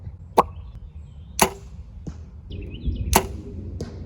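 Arrows loosed from a bow at an outdoor archery target land in sharp, loud, snapping impacts, three or four strikes spaced about a second apart over faint background noise.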